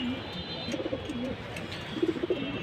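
A silver aluminium male pigeon coos close by in repeated low, throaty rolling phrases, clearest near the start and again toward the end, over faint background noise.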